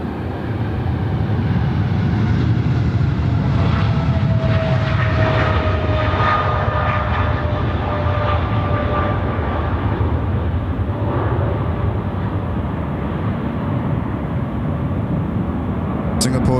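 Boeing 777 jetliner on approach to land at Sydney Airport, a continuous loud engine roar with a slowly shifting whine that holds throughout, with talk faintly beneath it.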